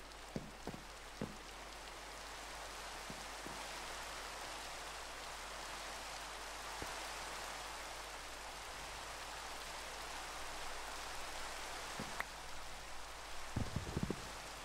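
Rain falling in a video game, an even hiss of rainfall on surfaces across the whole stretch, soft and constant with a few faint clicks.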